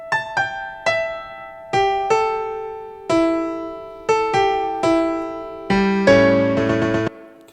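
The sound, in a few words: piano playing Ark Genesis theme melody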